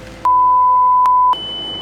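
Electronic beeps, a steady tone with three sharp clicks, then a higher tone, near and loud with no talk, heard during a photoshoot with a BMW M3 Competition.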